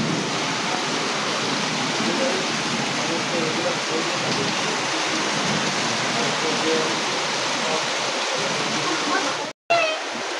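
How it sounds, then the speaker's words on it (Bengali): Heavy rain pours down in a dense, unbroken roar, loud and constant for about ten seconds with a sudden brief cutout near the end; no distinct thunderclap stands out. "এত জোর বৃষ্টি হচ্ছে আর সেই রকম বাজ পড়ছে"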